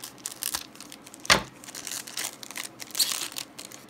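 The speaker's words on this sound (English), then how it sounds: "take one of your Christmas trees. I like to cut it in half" A Christmas tree air freshener card being cut in half, heard as brief close crinkling and tearing snips, with one sharp crunchy cut standing out among quieter rustles.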